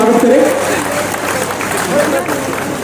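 Crowd applause greeting chief guests at an outdoor BJP rally in Barnoti, Kathua, a steady wash of clapping that holds for a few seconds with talk mixed in underneath.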